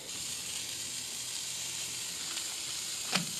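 Hamburgers and fish sizzle on an outdoor grill, a steady broad hiss of frying with a brief sharper spit near the end.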